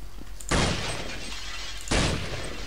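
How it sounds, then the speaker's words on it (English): Glass panes shattering in a desert-themed video game map, two loud crashes about a second and a half apart, each a sharp burst of breaking glass followed by a tinkling decay. "Now that I've broken all the glass, I can sleep easy."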